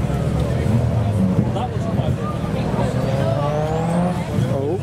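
A Mitsubishi Evo revs and makes engine noise at a night car meet with police present, tonal engine whine rising and falling close by, with a steady rumble of other cars and background crowd chatter underneath.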